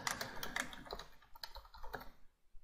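Rapid keystrokes on a computer keyboard while entering text into a spreadsheet cell, a close, irregular run of crisp taps with brief pauses and no talking.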